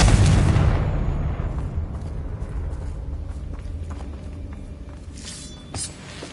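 A Confringo blasting spell detonates in the video game Hogwarts Legacy, a loud booming blast at the start that rolls away into a long low rumble, with faint crackles near the end.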